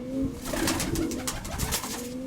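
Pigeons cooing close by, a soft low throaty coo repeating over a couple of seconds with light rustling and background noise, no voices.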